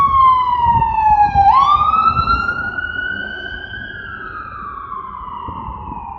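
An ambulance siren wails loudly nearby, its tone dipping once and then sliding into a long rising sweep, while traffic rumbles underneath and the siren slowly fades as it passes.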